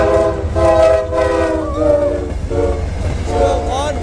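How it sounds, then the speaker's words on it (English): Amtrak Silver Meteor passenger train passing at a railwatch in Folkston, with repeated loud multi-tone horn blasts over a steady rumble of wheels on rails, close by. "Amtrak train, Silver Meteor 97, on his way to Jacksonville."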